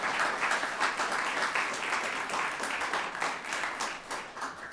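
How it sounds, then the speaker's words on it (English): An audience at a poetry recitation competition claps steadily, sustained applause at a moderate, somewhat distant level that tapers slightly at the end. "Give them a round of applause, please."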